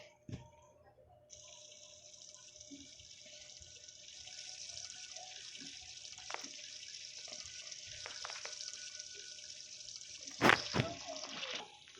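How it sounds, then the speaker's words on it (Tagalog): Running tap water streams steadily into a sink while dishes are washed by hand, a continuous hiss with a few clinks and a louder splash near the end, no talking. "Maghugas na lang ako ng plato, tay."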